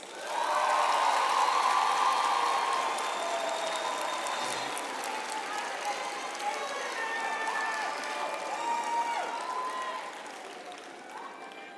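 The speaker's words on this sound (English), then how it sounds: "I would now like to ask our graduates to applaud their families, friends, and spouses for their support over the years." Graduates applaud their families and friends at a university health sciences graduation ceremony, a dense, steady wash of hall-filling clapping that swells early and then holds, slowly thinning toward the end.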